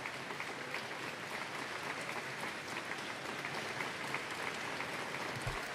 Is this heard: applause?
yes